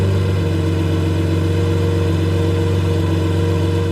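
Lamborghini Murcielago LP640 with its front axle lifter raising the nose, heard as a loud, steady engine drone with strong low harmonics running constantly from start to finish, no talking.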